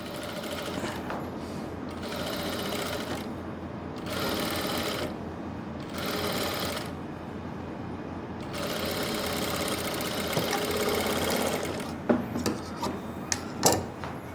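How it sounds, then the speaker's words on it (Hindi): A sewing machine stitches palazzo pants fabric, running in several long bursts with short pauses between them. Near the end come a few louder handling knocks. Nobody speaks. "अब इसके ऊपर आप सिलाई लगा लो"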